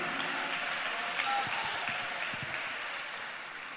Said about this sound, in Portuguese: Ofereça a Deus o melhor aplausos